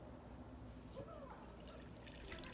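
Melted beef tallow pours and trickles softly through a strainer into a container, a faint, steady dribble against a low background hum.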